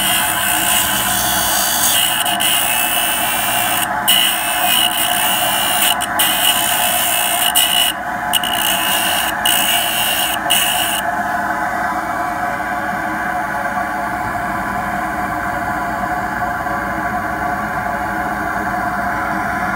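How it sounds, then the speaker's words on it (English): A dental grinder works down a stone cast for a removable partial denture. The tool whines loudly and steadily throughout, with a few brief dips early on, and no talking. "So I need to grind a little more off in that area."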